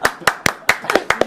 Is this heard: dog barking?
no